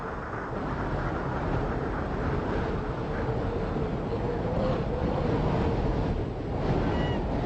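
Strong gusting storm wind in Svalbard roars continuously, mixed with the wash of rough surf, a dense broadband noise that never lets up.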